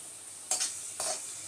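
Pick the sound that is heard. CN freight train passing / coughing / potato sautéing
potato sautéing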